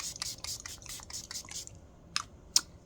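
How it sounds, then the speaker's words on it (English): Makeup setting spray mists onto a face in a quick run of short, hissing pumps, then two more single spritzes after a pause, close and crisp, with no talking over it. "I'm gonna take my setting spray one more time."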